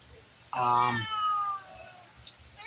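A house cat gives a single drawn-out meow, close and fairly loud, in an otherwise quiet indoor room, with faint background sounds trailing after it.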